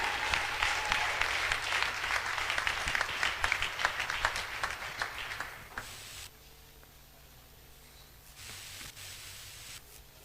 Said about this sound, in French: On applaudit encore pour notre orateur de ce matin.